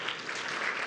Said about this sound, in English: Danson, I want these people to give you a big clap.